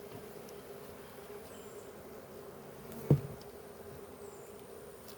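A steady low hum of honey bees buzzing fills the background, broken by a single soft knock, with no voices.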